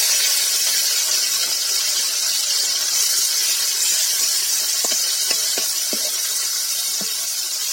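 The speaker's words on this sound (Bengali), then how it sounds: "শুটকিটা ভালো মতো ভেজে নেব।" Chepa dried fish (shutki) frying in a little oil left over from frying onions and chilies, a steady hiss of steam and sizzle with a few faint crackles, close and continuous, with no talking.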